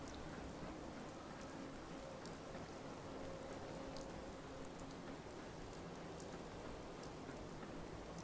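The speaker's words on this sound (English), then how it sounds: "It's raining." Steady, even rainfall in the video game Fallout 4, at the CIT Rotunda, patters continuously at low volume, a soft constant wash of drops with a faint low tone underneath.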